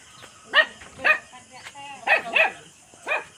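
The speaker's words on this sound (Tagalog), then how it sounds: "Dami nilang aso." Several dogs bark on a farm in short separate bursts, about six sharp barks spread over a few seconds, close and clear against a quiet background.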